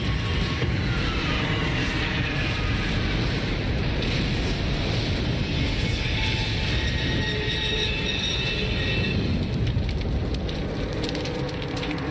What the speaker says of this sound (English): The other plane!